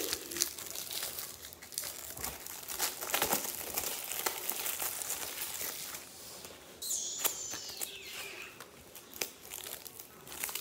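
Crinkling and tearing of a Flair baseball card pack's plastic wrapper as it is opened, close and continuous with sharp crackly bursts throughout.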